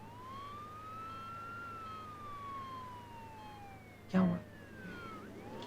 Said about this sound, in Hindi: एम्बुलेंस में सायरन होती है, सायरन के बजने से रास्ता मिलता है।